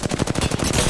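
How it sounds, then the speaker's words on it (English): Rapid automatic gunfire in a video game: about a dozen sharp shots in quick, even succession, loud and close, ending in a denser burst. "I'm shooting first"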